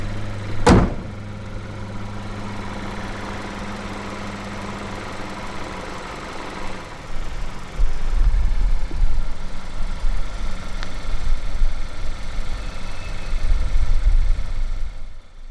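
A 2014 SEAT Leon 1.2 TSI petrol engine cranks and fires with a sharp start-up burst, then settles into a steady, smooth idle heard close up, with a rougher low rumble entering later.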